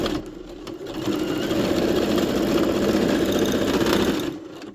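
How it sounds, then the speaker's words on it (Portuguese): A sewing machine runs a steady, continuous straight stitch along a pet dress seam, its motor whirring loud and close for several seconds before slowing to a stop. "Agora, vamos costurar na reta para poder fazer o acabamento"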